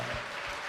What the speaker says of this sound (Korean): 우리 하나님께 영광의 박수 올려드리시죠.